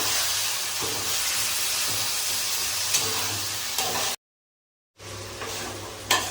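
Small fish curry frying in a pan while being stirred, a steady close hiss and sizzle with faint scraping, broken by a brief silent cut before the sizzling resumes.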